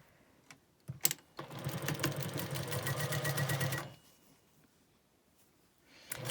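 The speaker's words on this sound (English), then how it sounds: "So we've got our strips sewn together." A sewing machine stitching fabric strips together for a quilt block runs in one steady fast burst of about two and a half seconds, preceded by a few clicks and followed by quiet.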